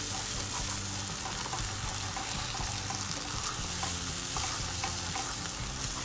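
Masala macaroni being scrambled and stirred in a hot pan, with a continuous close sizzle and frying hiss under repeated scraping stirs, no talking.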